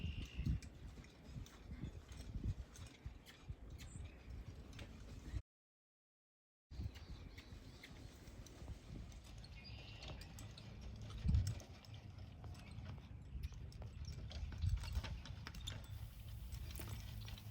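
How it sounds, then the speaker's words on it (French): A young horse wearing plough equipment walks around a farm garden in spring, its hooves giving soft, irregular clopping steps at a moderate distance over a quiet outdoor background, with one brief gap of silence. "fait promener le cheval avec l'équipement juste pour qu'il s'habitue"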